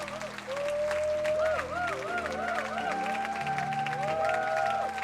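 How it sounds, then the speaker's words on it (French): A church congregation at a French-language service applauds and cheers, steady clapping under a music backing with sustained sung or shouted tones rising above it. "Est-ce que quelqu'un peut acclamer Jésus?"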